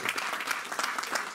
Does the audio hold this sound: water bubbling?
no